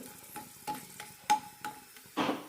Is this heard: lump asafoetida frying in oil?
yes